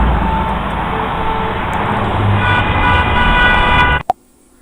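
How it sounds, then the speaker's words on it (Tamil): Steady roadway traffic noise with a low rumble and engine hum, fairly loud and continuous, cutting off abruptly near the end with a brief thump. "இது வந்து டிராஃபிக்கு டிராஃபிக் சவுண்டு கேட்கும்"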